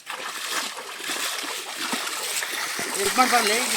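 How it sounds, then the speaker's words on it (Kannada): Water splashes and sloshes close by as people bail out a rock pool near a forest hill temple, with voices talking over the splashing. "ಅದಕ್ಕೆ ನೀರು ಖಾಲಿ ಮಾಡ್ತಾ ಇದ್ದೀವಿ"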